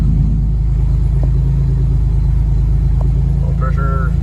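Chevrolet Cavalier Z24 engine idling steadily just after a cold start, a loud, constant low rumble with a couple of faint clicks and a brief higher whine near the end.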